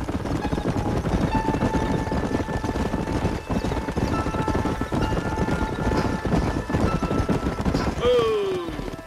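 Horses gallop in Red Dead Redemption with loud, rapid hoofbeats, jingling tack and a neigh near the end, continuous and close, with voices speaking over them.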